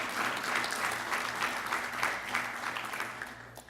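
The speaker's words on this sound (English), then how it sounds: "Let's give VASE a big hand of applause." Audience at a construction jobs and contracting forum applauds steadily, a dense wash of clapping held at even loudness for the whole stretch with no voices over it.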